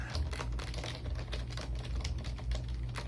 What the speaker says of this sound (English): when you push the keys down, they feel kind of mushy, and then they like squeak